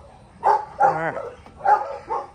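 A dog heading to its kennel gives several short close barks and whimpering yips in a quick uneven series, with a brief whine between them.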